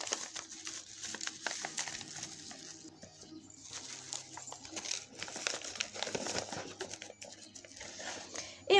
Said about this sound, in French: une fois que j'ai fait mes petits paquets, je les emballe dans du papier bulle.